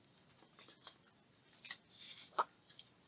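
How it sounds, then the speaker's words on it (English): Scissors snip through paper being cut for a craft side pocket, a few quick crisp cuts and rustles with two sharper snips near the end, close and alone. "I'm going to cut this one for the side pocket."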